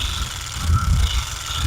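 A motorcycle engine running with a bad, abnormal noise gives off a steady, fairly loud low rumble that swells slightly midway through, with no talking over it.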